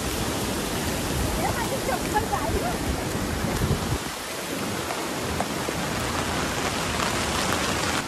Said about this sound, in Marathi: हा बघा खूप जोराचा पाऊस आलेला आहे